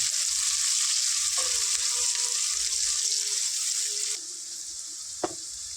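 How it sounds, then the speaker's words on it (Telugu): Onions and green chillies fry in a pan with a loud, steady close-up sizzle that drops suddenly in level near the end, followed by a single light clink. "ఆనియన్స్ మిర్చి కొద్దిగా గోల్డెన్ బ్రౌన్ కలర్ వచ్చే వరకు ఫ్రై చేసుకుందాం."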